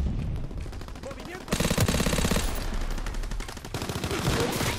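Gunfire in Call of Duty WW2, bursts of rapid automatic shots with a louder sustained volley in the middle, under a voice talking.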